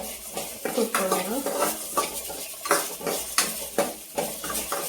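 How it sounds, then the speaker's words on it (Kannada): White sesame seeds roast in a pan over a low flame, stirred with a utensil that scrapes and clinks against the metal in repeated strokes, close and alone. "ಈಗ ಲೋ ಫ್ಲೇಮಲ್ಲಿ ಇಟ್ಕೊಂಡು ಚೆನ್ನಾಗಿ ಕುಟ್ಕೊಳ್ಳೋಣ."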